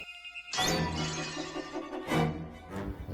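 Glass shatters in a Friday the 13th film scene, a sudden loud crash with ringing debris followed by further sharp impacts.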